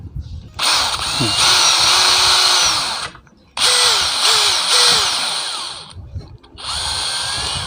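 An electric drill whines in several bursts of a few seconds each, biting into wood, with short pauses between them and faint voices.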